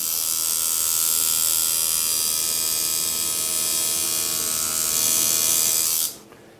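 Tattoo machine buzzing continuously while running a test line, a loud, steady high electric whine close up that stops abruptly just before the end.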